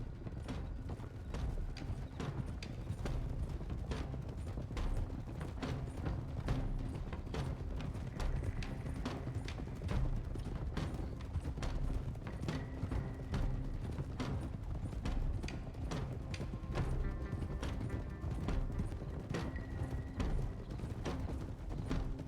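Horse hooves clatter in a steady, rapid galloping rhythm in the Red Dead Redemption 2 video game, alongside creaking tack and mechanical rattle, continuous and moderately loud with no speech.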